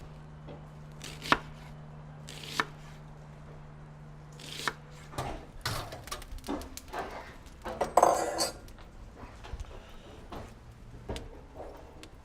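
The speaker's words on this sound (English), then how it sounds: "I'm gonna go ahead and cut our onion right now." A knife chops an onion into strips on a board, with irregular close taps and knocks in short bursts, some light clinks, and a low hum early on.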